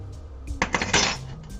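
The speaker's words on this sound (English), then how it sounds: "Just going to mix everything together, whisk it up" Brief, light clinking and scraping of a whisk in a bowl of French toast batter with vanilla, a short burst of quick metallic taps, fairly quiet and with no voice.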